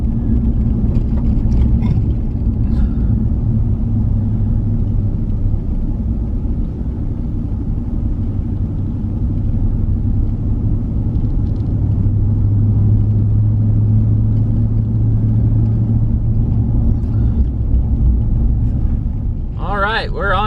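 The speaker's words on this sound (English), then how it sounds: "We're on gravel." A car rolls along a gravel road in the High Sierra with a loud, continuous low rumble and road noise inside the cabin, and a voice briefly speaks at the very end.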